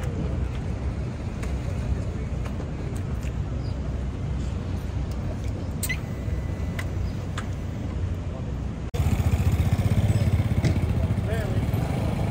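Roughly a thousand motorcycles idle and rev together at a large bike rally on a New York street before setting off, a dense continuous engine rumble with crowd chatter, growing louder near the end.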